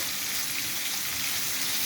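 Turmeric and chili powder frying in a pan, a steady close sizzle that holds evenly throughout, with a small clink right at the end.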